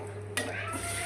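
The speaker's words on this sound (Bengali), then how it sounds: "চিংড়ি মাছটাকে খুব ভাজা ভাজা করে" Prawns fry in a pan with garlic, onion and green chilli, a soft close sizzle, with a brief clatter of a utensil stirring against the pan partway through.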